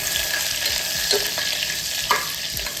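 Green cardamom, pepper, cloves and cumin sizzle steadily in a pan for matar pulao, with a few spoon scrapes of stirring over the constant frying hiss.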